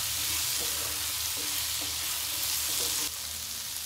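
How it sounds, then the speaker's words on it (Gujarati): Masala being stirred into vegetables frying in a pan for a five-lentil masala khichdi, a steady close sizzle with soft scraping strokes repeating about every second, no talking. "બધો મસાલો વેજીટેબલ સાથે સારી રીતે મિક્સ કરી લેશું।"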